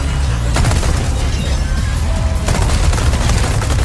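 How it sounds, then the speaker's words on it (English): SMG gunfire in Resident Evil 4 Remake, loud and dense rapid bursts over a booming game soundscape, steady throughout. "It surely has a better recoil than Hunk's SMG"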